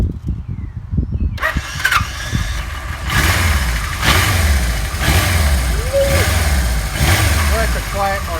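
A 1977 Kawasaki KZ1000A motorcycle engine, started without choke on reserve fuel, cranks briefly, catches and settles into a steady, close idle with a low, even throb.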